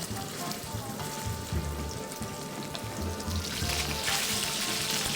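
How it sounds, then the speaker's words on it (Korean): Pork tenderloin sears in a generously oiled hot pan, giving a steady close sizzle and crackle that stays even throughout and brightens into a hissier spit toward the end. "시어링만 딱 할 거라서 빠르게 마무리할 겁니다"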